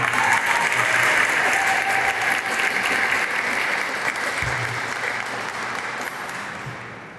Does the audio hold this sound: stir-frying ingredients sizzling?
no